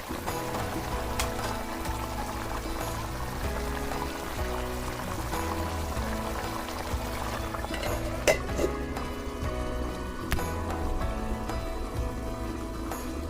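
Boiled water poured into a pot of tribal-style bamboo shoot chicken curry, a continuous splashing pour with bubbling and occasional clinks, close and steady throughout.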